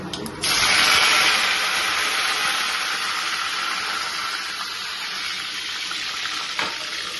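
Water is poured into hot oil tempered with cumin and curry leaves for a vegetable curry. It bursts into a loud, steady hiss and sizzle that eases only slightly over several seconds.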